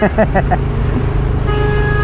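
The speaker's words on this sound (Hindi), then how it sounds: "लंबा ट्रैफिक लग गया काफ़ी" Stuck traffic on a mountain road near Joshimath, with a quick run of four short horn toots from a nearby vehicle, then a lower engine drone and a longer held horn note toward the end.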